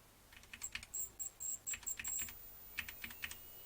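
Computer keyboard arrow keys pressed repeatedly while raising a slider value in Betaflight setup software for a quadcopter, giving quiet, close clicks in quick bursts of two to four taps with short pauses between.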